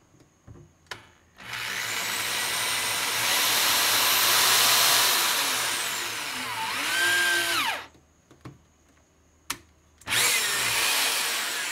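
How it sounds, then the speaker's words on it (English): A power drill whirs loudly as it drives a screw into an arcade cabinet during a restoration, running for several seconds with changing pitch as it bites, then stopping before a short second burst. "And I like to just go ahead and drill it one time."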